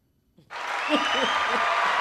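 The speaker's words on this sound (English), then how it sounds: "I got to clap on that" Clapping bursts in abruptly and continues as a dense, steady wash, while a voice talks briefly over it.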